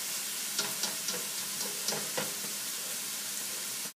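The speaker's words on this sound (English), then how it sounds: "add in the ham hock. Let that cook down just a little bit" A ham hock cooks down in a pot, giving a steady close sizzle with a few soft stirring knocks, no talking.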